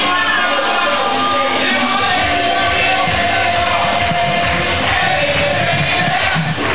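A volleyball stadium crowd at a Swatch FIVB World Tour beach volleyball final in Berlin roars and cheers continuously, a loud, dense wall of voices with yells rising throughout.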